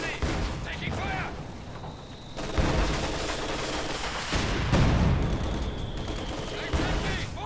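Gunfire in the Company of Heroes 2 strategy game, with sustained bursts and volleys of shots and booms that roll continuously and loudly, mixed with game voice lines.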